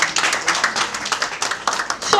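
At a World TB Day commemoration event in Lagos State, an audience breaks into brief, uneven clapping in distinct bursts, close and fairly loud, with a faint voice rising at the very end.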